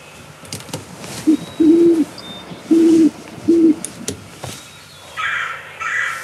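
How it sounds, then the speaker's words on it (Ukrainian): Owl hoots played back from a sound button at an interactive nature exhibit: three clear, steady low hoots in a slow, evenly spaced sequence, loud and near, followed by some faint background noise and softer sounds. "Ну що, сову нажимай."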